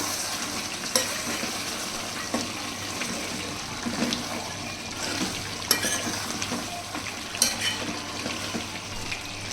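Country chicken curry gets stirred in a pan, with a continuous wet sizzle and bubbling under scraping spoon strokes and occasional sharp clinks, close and moderately loud, with no voices.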